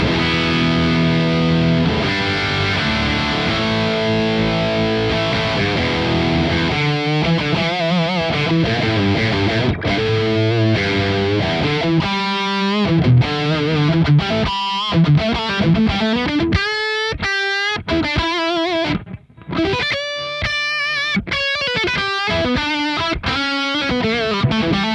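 A Revv Generator 100R MKIII amp pushes out a compressed, distorted electric guitar tone, with no reverb: sustained chords open the passage, then it turns to choppy riffs and quick single-note runs, loud and alone.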